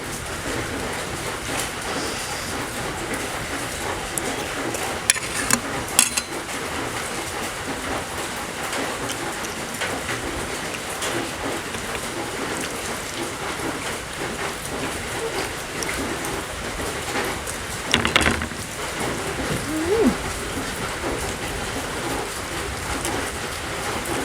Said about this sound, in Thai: ฝนตกอากาศเย็น นะมาพร้อมฟ้าพร้อมฝน